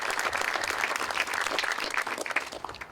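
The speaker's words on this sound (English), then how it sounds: "So let's have a round of applause for our superintendent for making sure this happened." A round of applause for a school district superintendent at an outdoor ribbon cutting, moderately faint, with individual claps from a modest crowd audible in a lively, uneven patter throughout.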